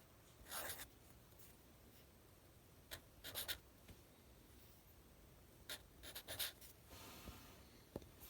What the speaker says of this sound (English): So right now we're going to write down all our coefficients.